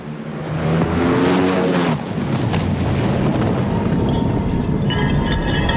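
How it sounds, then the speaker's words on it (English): Roar and blast of an NHRA top-fuel dragster engine exploding with its supercharger split apart at the 2002 Fall Nationals in Dallas, a loud sustained rumble with a heavy burst near the start, then crackling debris and broadband noise with no talk. "This is a tremendous explosion"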